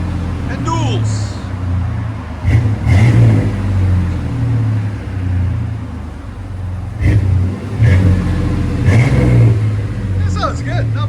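A 1992 GMC Sonoma pickup with a 4.3L fuel-injected V6 and knockoff Flowmaster dual exhaust idles with a deep, loud rumble, then blips its throttle in several sharp revs that swell and fall back.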